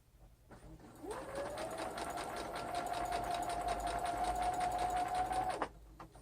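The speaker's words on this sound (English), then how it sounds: "You're actually going to hem the top part of the shoulder." A sewing machine runs steadily for several seconds, hemming the top edge of a garment's shoulder, a close rapid mechanical whir that starts up and stops cleanly, with no talking.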